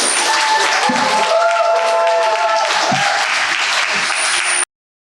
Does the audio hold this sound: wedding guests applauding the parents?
yes